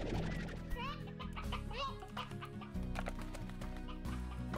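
Hens and a rooster cluck and crow inside a pen in the Slime Rancher video game, a busy layered flock chatter that runs steadily throughout, with a voice talking faintly over it.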